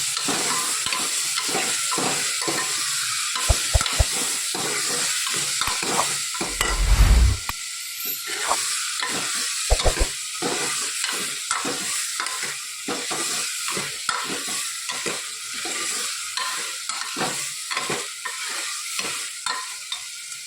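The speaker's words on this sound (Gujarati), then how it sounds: "સરસ મિક્સ કરી લઈએ." Samosa filling stirred and fried in a pan: a continuous sizzle under rhythmic spatula strokes scraping the pan, with a few sharp knocks along the way.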